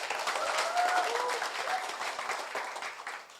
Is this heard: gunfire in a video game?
no